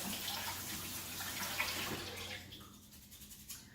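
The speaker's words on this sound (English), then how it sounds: "you just want to rinse it until the water starts to run clear" Tap water runs over quinoa being rinsed, a close, steady hissing stream that tapers off toward the end into a few faint drips and clinks.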